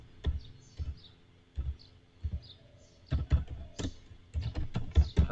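A name being typed on a computer keyboard: clusters of crisp key clicks in short uneven bursts, close and fairly quiet, with no talk over them.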